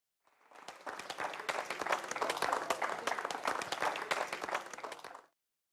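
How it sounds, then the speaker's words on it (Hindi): An audience bursts into applause that swells quickly, holds as a dense, even patter of many hands for about five seconds, then cuts off, heard alone with no talking. "तालियां।"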